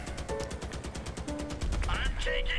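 Vehicle-mounted guns fire in rapid bursts during a Crossout vehicle combat match, a loud, dense, steady rhythmic rattle of gunfire running throughout with engine rumble and brief tonal effects underneath.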